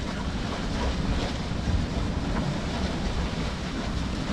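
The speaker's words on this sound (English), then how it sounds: "We've got 20 knots of wind, so it won't take long." Strong wind of about 20 knots blows across a sailboat under way, a steady, loud roar of wind buffeting the microphone with a constant low rumble of water and waves beneath, no voices present.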